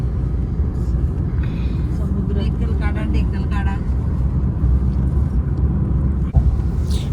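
A Maruti Baleno cruises along a highway on a Mumbai to Mahabaleshwar road trip, its cabin filled with a constant low road and engine rumble, while people chat inside the car.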